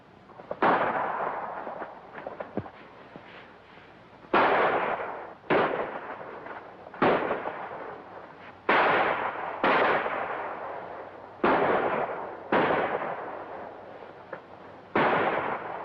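Gunfire in a 1938 western shootout rings out as about a dozen sharp, loud shots, spaced irregularly with brief echoing decays between them. No voices can be heard.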